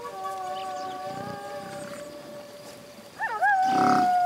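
In a Yakari cartoon prairie scene, a mockingbird imitates a wolf's howl: long, smooth, layered howling tones that waver and then rise into a louder, sliding cry near the end.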